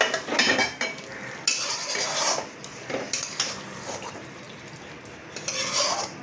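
Bombay duck (loitta) fish being gently turned with spices in a pan, giving soft intermittent scrapes and utensil clinks against the metal, with faint frying crackle underneath and no talking.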